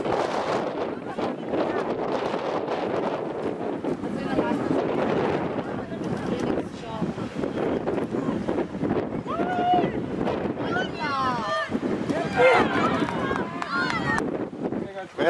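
Gusty wind buffets outdoors at a U12 youth football match in Drasenhofen, with steady rumbling bursts throughout and people shouting and talking over it.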